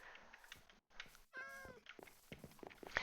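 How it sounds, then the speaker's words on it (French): Cats meowing in Minecraft, several short game meows mixed with a drawn-out wavering cry, heard over a voice talking in French. "C'est tes chats à toi? Purée, ils sont sympas."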